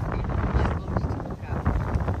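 Steady gusty wind on Mykonos buffets the microphone with a low rumbling roar, continuous and fairly loud throughout.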